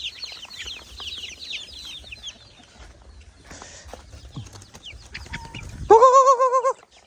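Chickens on a rural farm cluck and chirp, softly at first and then more steadily, before a loud, sustained, wavering call near the end.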